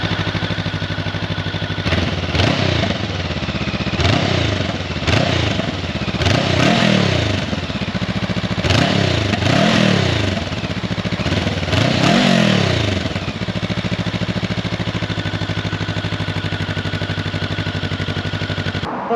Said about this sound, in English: let's get the engine started and see how she sounds.